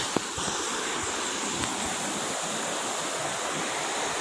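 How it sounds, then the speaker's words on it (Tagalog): Seven Falls waterfall at Lake Sebu, a steady broad roar of falling water, constant and fairly close, with a couple of brief knocks near the start and no talk. "So mao ni ang Seven Falls karon."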